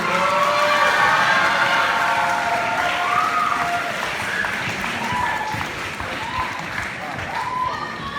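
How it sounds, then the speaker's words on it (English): Sustained applause and light cheering fill a sports banquet hall, a dense crowd clapping steadily for several seconds with a few voices and whoops rising above it. "Let's give them a round of applause."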